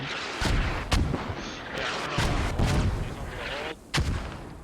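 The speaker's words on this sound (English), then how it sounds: "a grenade landed right next to me on that side of the wall" Blasts and gunfire in the tactical shooter Squad, including a grenade going off right beside the player near a wall: several sharp, loud, close booms in quick, irregular succession over continuous battle noise.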